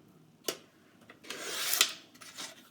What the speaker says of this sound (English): We are cutting this into 2 3x12 pieces. So put this in at 3 inches and just trim it right down the middle here.